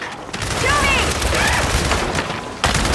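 Heavy gunfire in the video game Gears 5 during a Horde match, a loud, continuous volley of shots and blasts, close and dense, with voices shouting over the fighting.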